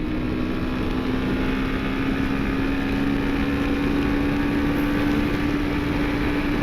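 A Royal Enfield Himalayan motorcycle engine pulls steadily through the gears, with a continuous loud drone and a rising whine heard close and alone, mixed with heavy wind rush.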